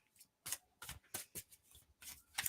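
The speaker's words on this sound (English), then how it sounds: "let's sloppy shuffle." Tarot cards are loosely sloppy-shuffled in a quiet, close series of soft papery riffles and slaps, several brief bursts separated by short pauses.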